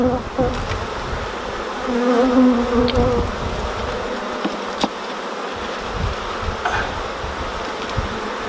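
Honeybees buzz loudly in an opened beehive being checked for a missing queen, a close, dense drone with individual bees whining past and a few light knocks.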